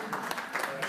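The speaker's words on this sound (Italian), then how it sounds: "Grazie per l'applauso." Audience applause in a festival hall during an onstage conversation in Bolzano, a dense even wash of clapping filling the whole short stretch at steady level.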